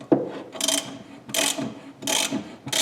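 A Tusk spring compressor being tightened on a motorcycle or ATV shock gives a ratcheting sound in four bursts of rapid clicks, close and moderately loud, with short pauses between strokes.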